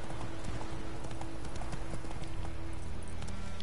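Steady clip-clop of a horse's galloping hooves in The Witcher 3 video game, loud and close, with a continuous low rumble underneath and no voices.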